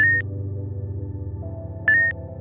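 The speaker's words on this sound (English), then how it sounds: "I like this pickup sound" Pickup sound effect made in the sfxr sound generator: two short, bright rising electronic blips about two seconds apart, standing out over a low steady hum.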